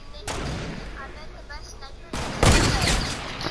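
Gunfire in a PS4 shooter game, with two loud, booming blasts about two seconds apart and a rumbling tail after each. People talk over the shots.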